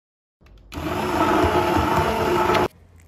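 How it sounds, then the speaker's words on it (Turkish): A blender whirs loudly for about two seconds, a steady high-pitched grinding hum that starts and stops abruptly, close by, with no talking. "Bir blender yardımıyla pürüzsüz püre haline gelene kadar çekelim."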